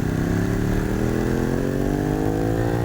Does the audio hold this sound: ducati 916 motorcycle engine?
yes